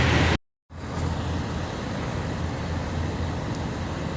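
A truck on a road in Rockport, Missouri, heard as a steady low engine and road rumble after a brief cut of silence, moderately loud and continuous with no voices.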